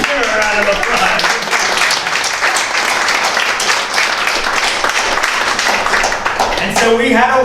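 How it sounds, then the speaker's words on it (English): A theatre audience at a stage performance in Hot Springs breaks into sustained applause, dense steady clapping from many hands that fills the room throughout, with voices rising near the end. "Give her a round of applause."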